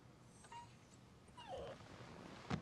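Sick dog in the TV drama Boardwalk Empire letting out a few faint, thin whimpers and a soft yip, over a low background hum with a brief thump at the end.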